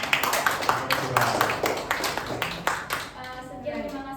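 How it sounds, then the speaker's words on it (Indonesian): A classroom group claps after a microteaching session in a school setting. Several seconds of close, uneven hand claps carry a voice over them before the clapping thins out and talk takes over. "Beri tepuk tangan untuk."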